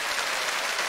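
Dense, steady applause from a crowd at the Korean TV singing contest Jeonguk Noraejarang in Yeoncheon, Gyeonggi Province, a continuous wash of clapping with no pauses and no voices over it.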